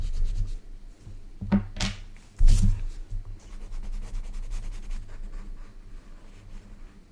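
Eraser rubbing over a pencil drawing of a lemur on paper: soft scratchy strokes up close, with a couple of brief louder rubs and quieter brushing afterward.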